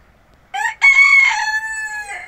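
A rooster at a zoo crows twice in quick succession close to the recorder: a short first call, then a long, loud, drawn-out crow that tails off, with no talk over it.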